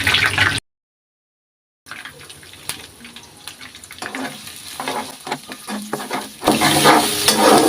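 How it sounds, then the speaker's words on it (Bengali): Chopped onion dropped into hot oil with cardamom, cinnamon, peppercorns and cloves, sizzling and crackling in bursts after a brief silence, then settling into a steady loud fry toward the end. "এখন আমি দিয়ে দিব পেঁয়াজ কুচি"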